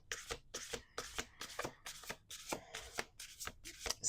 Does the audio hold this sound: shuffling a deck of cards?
yes